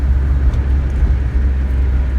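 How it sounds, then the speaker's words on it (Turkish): A Mitsubishi L300 van's engine running, a loud, steady low droning rumble with no other sounds on top, close by and continuous throughout. "çok fazla sesi var arabanın"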